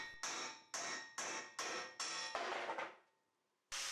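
Hammer tapping weld off a steel tube on a 1980 Opel Kadett historic rally car build, six sharp close metallic strikes in a steady rhythm with ringing decay, ending in a brief pause before one more hit.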